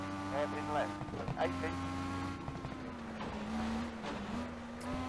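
A race car's engine in the Switch rally game Rush Rally Origins drones at a steady, slightly shifting pitch under someone talking throughout.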